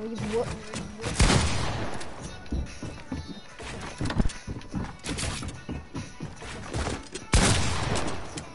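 Gunfire in the Warzone video game: repeated bursts and single shots crackle throughout, several loud volleys near the start, middle and end, with a voice speaking briefly in between.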